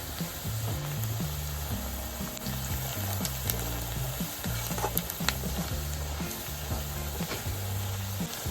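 Ground turmeric, Kashmiri red chilli and coriander powder sizzling with fried onion in a pan for Hyderabadi masala chicken, a dense continuous close frying hiss with a low tonal hum and scattered spatula scrapes throughout.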